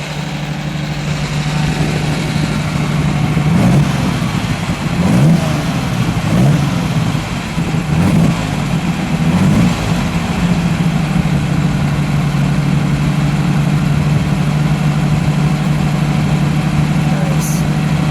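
1965 Lamborghini 350 GT V12 engine idling steadily nearby with a few brief blips of revving early on, a strong low hum holding throughout while voices murmur alongside.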